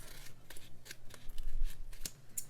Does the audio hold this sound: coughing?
no